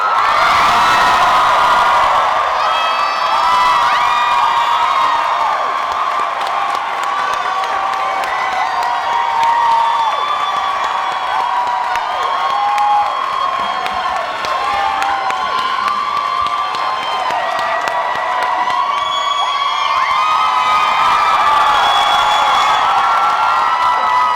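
A convention panel audience roars with loud, sustained cheering, whoops and shouts filling the hall continuously from start to finish as the crowd greets a celebrity guest arriving on stage.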